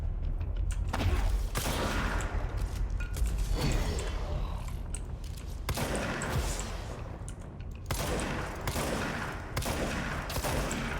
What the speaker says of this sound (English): with the shotgun, as long as they're within range for me to hit, which they usually are, I'm able to just lay into them